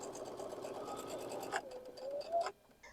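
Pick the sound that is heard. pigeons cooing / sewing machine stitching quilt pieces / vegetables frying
sewing machine stitching quilt pieces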